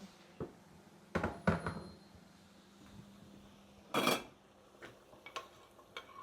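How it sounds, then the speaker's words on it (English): Metal utensils scrape and clink against a pan while deglazing browned bits with water, in sporadic strokes, with a faint sizzle underneath and a couple of louder rasping scrapes. "Just kind of scrape off any of those nice brown bits."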